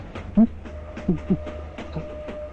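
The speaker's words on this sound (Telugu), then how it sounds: "ఈ ట్రైన్ వెళ్తూనే ఉండాలి, ఆకూడదు" A train runs along the rails, with irregular close thumps and clacks of the wheels over a low rolling rumble.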